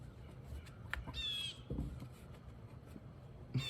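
A crow caws a few times at moderate distance, harsh calls spaced apart over a quiet outdoor background.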